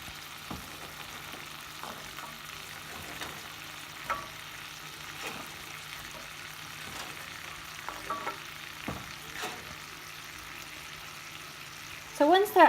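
Vegetables go into a pan of turkey frying on the stove, giving a low steady sizzle with occasional stirring scrapes and knocks, fairly quiet, and a person speaks over part of it.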